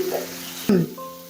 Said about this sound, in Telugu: ఇప్పుడు ఇంకా మెంతికూర కూడా యాడ్ చేస్తున్నాము దీన్ని కూడా బాగా ఫ్రై చేసుకోవాలి